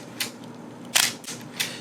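Nikon F3/T film camera firing its mechanical emergency shutter release, heard as a few sharp, close metallic clicks spaced apart over a faint room hum.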